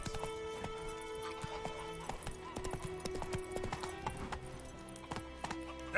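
Horse Roach galloping in The Witcher 3 game on PS5, rapid rhythmic clip-clop of hooves throughout over layered game sounds, with faint talk in the background.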